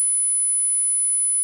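A steady, thin high-pitched whistling tone, constant and unbroken, like a simulated ringing in the ears.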